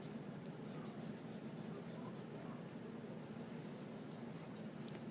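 Lines drawn hard on paper and traced over several times, a continuous close scratchy rubbing that keeps going without pause, with no talking.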